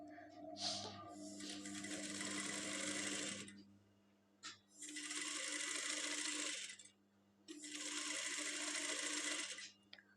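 Sewing machine stitching the hem of a pleated skirt, running in three steady bursts of about three seconds each with short pauses between, close and clear over a low background hum.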